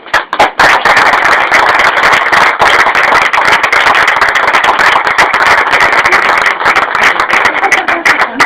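Loud, sustained applause from an audience, many hands clapping densely and continuously for several seconds before easing off near the end.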